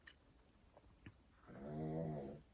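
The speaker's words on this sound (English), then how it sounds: "That's my dog snoring." A sleeping dog lets out a single drawn-out, wheezy snore, faint and close, after a few quiet scratching sounds.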